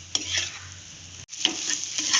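Egg stir-fried with agathi (hummingbird tree) flowers in a pan gives a close, steady sizzle with repeated scraping strokes of a spatula and a brief break in the middle.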